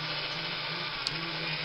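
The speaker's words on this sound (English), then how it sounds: "we drill open the bottom of one of them" Electric drill boring out a rivet on a Hillman Minx car part, a steady continuous whine held close and fairly loud for the whole stretch, with no voices.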